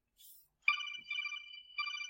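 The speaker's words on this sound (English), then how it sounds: "Silence your phone" A mobile phone ringtone goes off in a geometry classroom, playing short bright electronic tones in a few quick bursts, fairly clear and with no talking over it.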